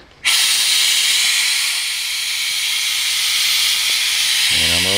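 A Harbor Freight pneumatic brake bleeder bursts into a loud, steady hiss as shop air pressure is applied. The hiss stays close and constant for several seconds, with a faint low rumble entering near the end.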